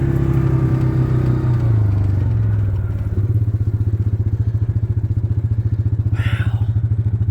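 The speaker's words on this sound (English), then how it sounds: "Give us some four-wheel drive this time." Four-wheel drive vehicle rolling through a flooded, flood-irrigated field in Clover Valley, Nevada: a steady low engine drone with a rapid rhythmic pulsing thrum, near and fairly loud, with a brief splashy hiss partway through.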